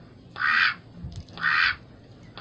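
A large duck gives three loud, nasal quacks at a steady rhythm close by, with quiet gaps between them and no talk.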